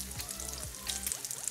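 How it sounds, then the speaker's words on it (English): Slices of Spam fry in hot grease in a pan, giving a soft continuous sizzle with light crackling pops and a faint low hum beneath. "I've got some Spam sliced up and I'm frying it."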